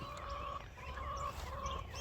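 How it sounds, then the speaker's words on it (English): Escaped chickens cluck outdoors in short repeated calls at a moderate distance over faint background noise. "These chickens don't belong out here."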